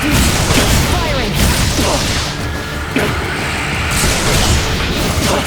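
Weapon fire and explosions in the Star Ocean: The Divine Force video game make a loud, dense barrage of booms, impacts and whooshes under game voice lines and music.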